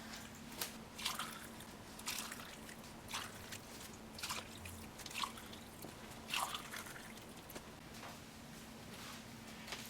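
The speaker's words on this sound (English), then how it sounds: "So let's start pouring the water in." Hot water poured over several tea bags steeping in cups, heard as faint, quiet splashing and dripping with irregular trickles and soft bursts throughout, no talking.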